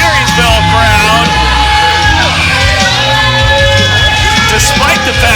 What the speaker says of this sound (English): A showering of boos.